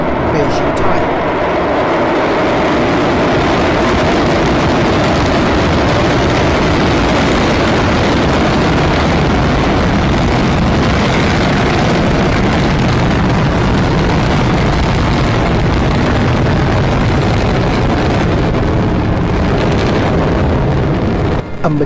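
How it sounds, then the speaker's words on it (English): A Long March 2C carrier rocket with a YZ-1S upper stage launching from Xichang Satellite Launch Center, giving a loud, sustained broadband roar with heavy wind rumble that holds steady for over twenty seconds. "A majestic Long March 2C carrier rocket with YZ-1S upper stage ripped through the sky"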